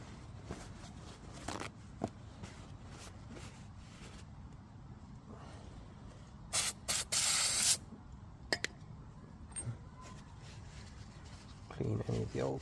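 Brake cleaner is sprayed on the brake parts of a 1998 Toyota Celica GT ST in a loud hissing burst of about a second, preceded and followed by short puffs, amid handling noises and quiet background.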